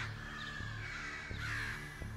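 Crows caw repeatedly while scolding a person wearing a mask, with several short, harsh calls at a fairly even pace over a low, steady background hum.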